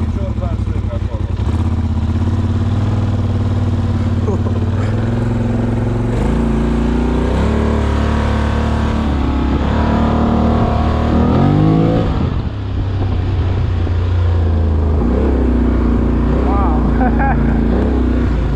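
A Polaris Scrambler 1000 ATV engine rumbles and revs loudly nearby, rising and falling in pitch, with people talking over it in Romanian.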